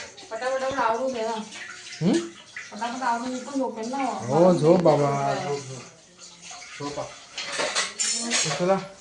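Dishes and pots clatter and knock as they are washed under running water in a home kitchen, the scrubbing sounds mostly buried beneath steady conversation and growing clearer near the end.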